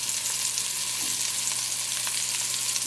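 Stuffed peppers sear in a hot pan, giving a steady, loud, close sizzle and crackle of frying that runs unbroken for a few seconds with no voices over it.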